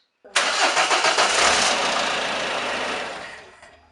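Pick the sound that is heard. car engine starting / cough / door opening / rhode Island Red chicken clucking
car engine starting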